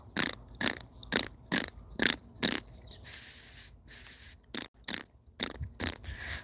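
A person imitates the calls of a flock of long-tailed tits on a heath golf course with a rhythmic series of short sharp clicks, broken by two longer high whistled notes near the middle.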